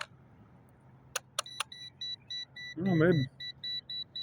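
A ghost meter gives a short series of regular electronic beeps, evenly spaced and fairly faint, in a quiet room while a person briefly speaks.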